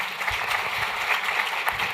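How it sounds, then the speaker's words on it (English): Meeting attendees at a plenary session applaud the organizers, a brief burst of steady, fairly close clapping from the room. "They need a big applause,"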